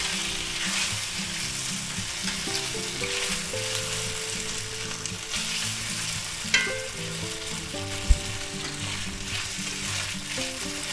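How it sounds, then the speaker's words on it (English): Thin beef strips for a spicy beef lo mein stir fry sizzle steadily in a hot pan while being stirred, with a couple of sharp scrapes and clinks, close and without talk. "let's go ahead and stir that around"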